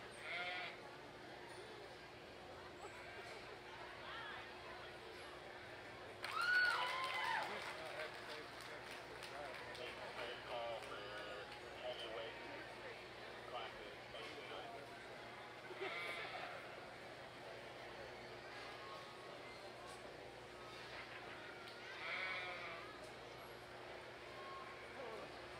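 Market goats bleat repeatedly at a junior livestock show in an indoor arena, scattered calls rising over a steady crowd murmur while an announcer speaks over a public address system.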